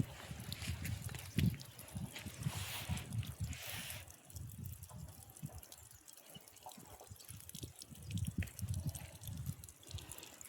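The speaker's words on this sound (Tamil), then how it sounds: "தண்ணி போகுது பாருங்க." Irrigation water runs through a channel into flower garden beds, a soft, continuous gurgling and trickling heard nearby at low volume with no voices.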